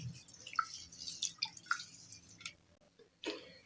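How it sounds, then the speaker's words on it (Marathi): Soaked idli grains rubbed and rinsed by hand in water, heard as close, quiet drips, splashes and wet squishes in irregular bursts with brief pauses, no voices. "अशा पद्धतीने चोळून धुवून घ्यायचे आहेत दोन तीन वेळा म्हणजे याच्यातील घाण निघून जाते"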